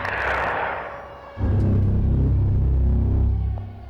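Gunfire in a video game, a dense burst of low, booming shots that rumble like artillery. The shots swell loudly after a brighter noisy opening and keep up to the end, with no talk over them.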